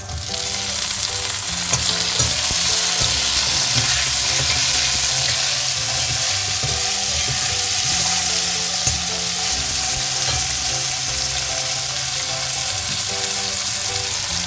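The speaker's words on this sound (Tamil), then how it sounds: "வெங்காயம் வதங்கினதுக்கப்புறம் தக்காளி போட்டு ஒரு 2 மினிட்ஸ் வதக்குங்க" Onion and tomato sautéing in a pan for South Indian drumstick sambar, a loud, steady sizzle with repeated scraping stir strokes throughout, no voices.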